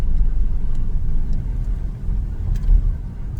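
A car driving on a hot day, heard from inside the cabin as a steady low road rumble and engine drone, no talking.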